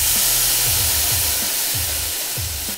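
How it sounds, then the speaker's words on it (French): Hot pan from cooking pork deglazed with vinegar, giving a loud, steady hissing sizzle with steam that barely fades over a few seconds, alone without talk. "on déglace avec le vinaigre"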